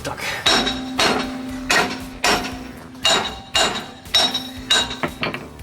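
Heavy metallic hammer blows strike a stuck brake drum on a 1967 VW Bus at a steady pace, about a dozen ringing clanks with brief pauses between.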